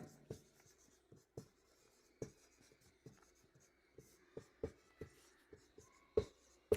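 Marker or chalk writing on a board during a class 10 chemistry lesson, heard as scattered sharp taps and short strokes at an uneven pace. The sounds are faint and close in a quiet room.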